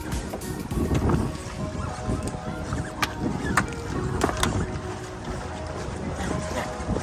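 A tourist boat moving across the lake at Mount Abu, giving a steady motor hum and wind rumble with light water splashing and a few small knocks throughout.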